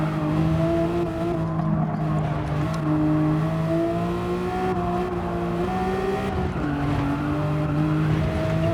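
In a racing video game, a Lamborghini Gallardo's engine drones at high revs with shifting pitch as its tires squeal steadily through the turns, loud and continuous throughout, with no talk.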